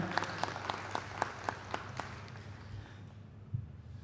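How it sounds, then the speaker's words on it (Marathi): An audience at a Ganesh Geeta discourse applauding to welcome a speaker, with a soft wash of clapping and a few distinct claps spaced through it, tapering off after a few seconds. "सर्वांनी आपण टाळ्या वाजवून त्यांचं स्वागत करूया."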